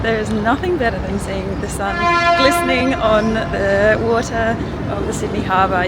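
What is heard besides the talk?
ferry horn toot at Sydney's Circular Quay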